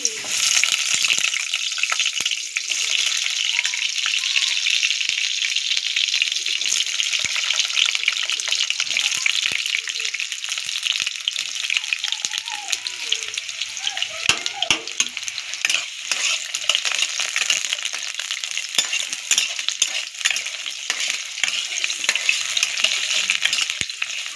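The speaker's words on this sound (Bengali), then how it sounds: "চিকেনের পেঁপেগুলো ভেজে নিচ্ছি" Papaya pieces frying in a pan for a chicken curry, a dense close hiss of sizzling oil with scattered scraping and clicking of stirring throughout, fairly loud and steady.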